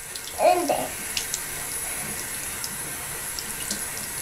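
Water runs from a tap into a sink while a child's hair is being brushed, a steady faint wash with a brief louder splash near the start.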